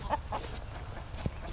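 Backyard chickens at a garden fence give a few soft clucks near the start, then a faint low cluck, over steady outdoor background noise with no talk.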